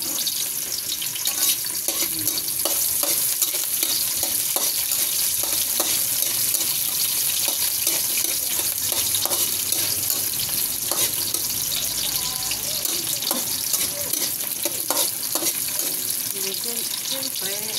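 Onion frying in a pan while cooking pancit, a bright, constant hiss and sizzle with occasional stirring clinks underneath, steady and close.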